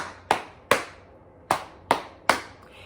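Five sharp hand claps ring out alone in an uneven rhythm, close and crisp, with short pauses between them.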